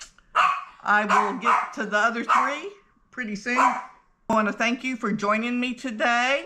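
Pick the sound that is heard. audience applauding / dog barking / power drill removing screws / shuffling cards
dog barking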